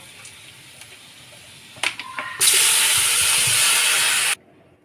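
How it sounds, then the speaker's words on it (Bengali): Water hits a hot pan of frying small crabs and bursts into a loud, sustained hiss of steam for about two seconds, then cuts off abruptly, preceded by a few faint clinks. "একটু ভাজা ভাজা হয়ে গেছে, এবার জল দিয়ে দেব।"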